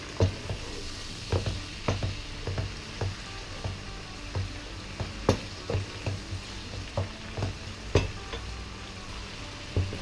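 Chicken sautéing in a hot pan, sizzling with regular scraping and stirring taps, continuous and close, with no voices.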